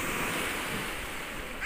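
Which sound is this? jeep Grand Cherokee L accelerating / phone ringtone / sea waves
sea waves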